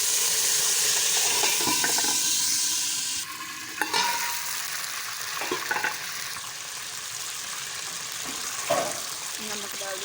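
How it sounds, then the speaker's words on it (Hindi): A little water is poured into a pot of rice with curry leaves, cinnamon and cumin, setting off a loud sizzling hiss that settles after a few seconds into softer bubbling with occasional clinks of a spoon. "साथ ही इसमें थोड़ा सा पानी डाल देती हूँ।"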